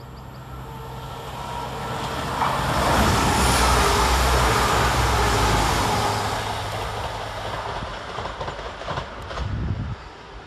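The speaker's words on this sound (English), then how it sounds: "Coming the other way for West Midlands Railway is 196-104, working 2 Juliet 16 from Birmingham New Street to Shrewsbury." A West Midlands Railway class 196 diesel unit runs through Dudley Port station, its broad rumble and rail noise swelling to a peak midway and then easing off as it passes nearby.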